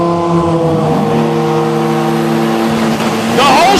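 A drag racing car at the DCT World Cup runs down the strip with a loud, sustained engine roar. The steady, high-pitched drone swells near the end.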